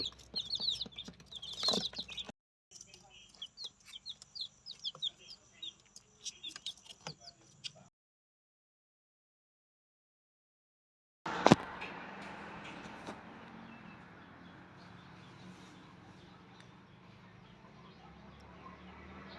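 Baby chicks in a brooder under a heat lamp peeping and chirping in quick scattered bursts, broken by a stretch of silence and then a sudden handling clatter followed by a steady hum.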